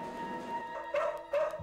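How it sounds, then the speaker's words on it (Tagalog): A dog on a veterinarian's table in a clinic gives two short whining yelps near the end, after a quiet stretch with a faint tone in the background. "isang aso."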